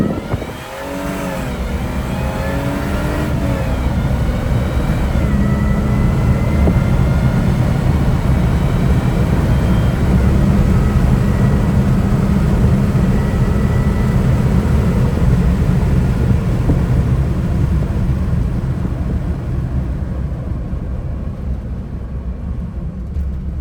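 A Hemi Hellcat engine roars at full throttle from inside the car, a loud, sustained rising rev that holds steady and gradually eases off toward the end, with no talk.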